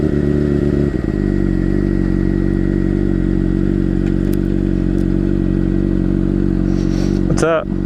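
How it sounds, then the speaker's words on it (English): A motorcycle, a CBR600RR sport bike, idles close by with a steady low engine rumble throughout, ending in a brief rising sweep of sound. "He said he's going to ride his bike down here."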